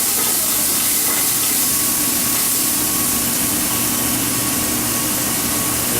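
Cilantro and other ingredients browning in a hot pan give off a steady, dense sizzle and hiss that runs unbroken throughout, loud and close with no voices over it.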